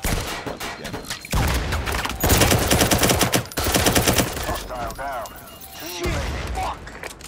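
Bursts of automatic gunfire from the tactical shooter Firewall Zero Hour, loud rapid volleys coming in several stretches with short gaps, mixed with game effects and a player's voice talking over parts of it.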